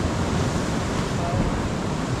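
Sea swell and waves washing against a fishing rock, a dense, steady roar of surf and water noise with wind buffeting the microphone, loud and close.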